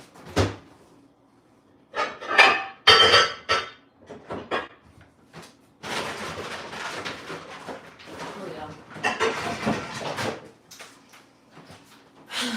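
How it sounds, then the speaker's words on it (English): Pans and cookware clatter and knock as someone rummages through kitchen cupboards, with bursts of clanking and cupboard sounds close by, mixed with a person talking. "I'm trying to find me a pan."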